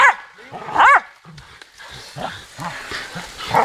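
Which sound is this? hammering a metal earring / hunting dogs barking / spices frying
hunting dogs barking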